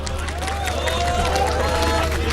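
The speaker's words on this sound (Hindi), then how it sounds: "तालियां बज रही हैं।" Studio audience at a televised Delhi election debate applauding, a dense, continuous patter of many hands under someone speaking.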